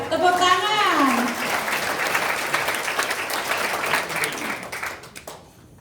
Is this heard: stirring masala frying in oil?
no